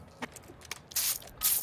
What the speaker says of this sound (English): Did you spray that in your mic?